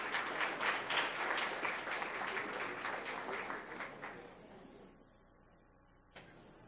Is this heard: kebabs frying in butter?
no